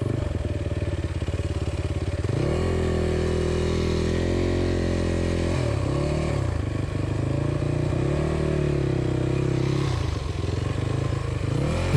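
A motorcycle engine labours and revs close by while crossing a deep, rocky riverbed, misfiring from high water and water in the coil, its pitch rising and falling, with clattering and scraping underneath.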